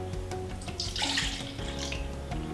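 Warm water pours from a tap for cake batter, a steady close splashing stream that swells in the middle and runs alone for a couple of seconds.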